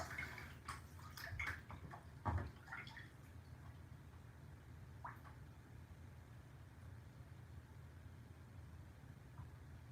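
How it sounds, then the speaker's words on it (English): Bath water sloshing in a filled bathtub: quiet, close, gentle swishing with a few small splashes and gurgles early on, then a steady low wash of water. "I'm literally drinking my bath water."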